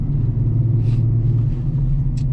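Steady low engine rumble from a Chevy Colorado fitted with a cold air intake, a continuous idle-like drone held at even loudness throughout, with no clear rev swells and no talk.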